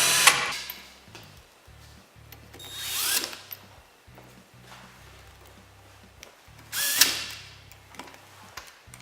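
Power drill driving set screws on a 1143 hub for a containment coulter or tillage arm, heard as several short whirring bursts with quiet mechanical pauses between them.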